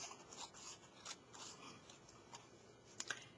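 Scissors trimming a sheet of paper towel folded in half, a few faint, quiet snips and rubbing sounds up close, with a brief sharper cut near the end.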